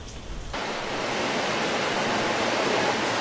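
Heavy rain and strong wind lash Southern Leyte in a dense, continuous roaring wash. The noise swells suddenly after a brief quieter moment and then holds steady and loud.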